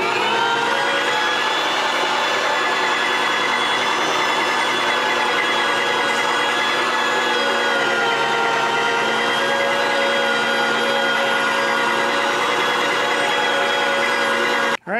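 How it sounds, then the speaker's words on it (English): Electric meat grinder running steadily as chuck roast goes through a finer grind, a loud continuous motor whine with an even tone that cuts off abruptly at the end, no talking. "you take the ground meat, you put it in, run it through your finer grind"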